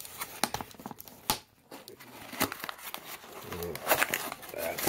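Blade slicing open the tape on a large shipped cardboard box holding an RC truck part, a series of short crinkling, tearing cuts and rustles close by, with some background movement.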